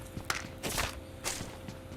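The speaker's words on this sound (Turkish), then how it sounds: "Ayak sesi aldım." Footsteps in the PUBG Mobile video game: a quick, uneven run of soft thudding steps, moderately near, with a couple of louder scuffs and no talk over them.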